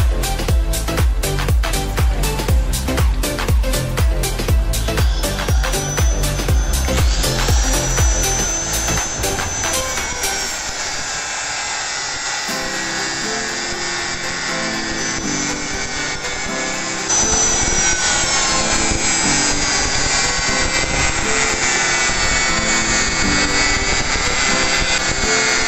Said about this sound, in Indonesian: Ya, potongnya pakai gerinda ya,